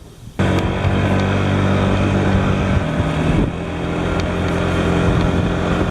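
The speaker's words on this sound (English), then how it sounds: "I'm gonna power up my scooter" A scooter starts up abruptly and holds a steady, loud motor drone as it rides off, with wind noise over the microphone throughout.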